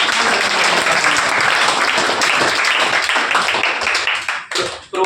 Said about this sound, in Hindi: एक बार जोरदार तालियों के लिए मैं आपको